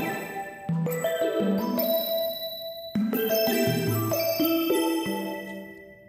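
Synth tones played from an Erae 2 touch controller into Ableton Live, with pressure and position shaping the tuning and spread: bright, bell-like notes that shift in pitch and sustain with reverb, clear and alone without talk.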